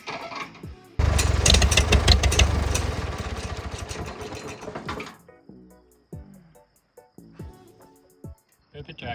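An old tractor engine with a fuel problem bursts into a loud, rough, rattling run for about four seconds, then dies away into scattered clanks and knocks.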